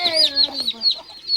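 A mother hen clucks softly among her young chicks at a water dish, with high, looping peeps from the chicks over the low clucks, close and lively.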